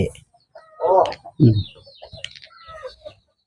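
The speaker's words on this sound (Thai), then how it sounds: "สถานที่คัดซ้อมไก่" Fighting roosters at a cockfight sparring venue in Thailand give a few loud, close clucks and squawks, with someone talking and background chatter and clatter around them.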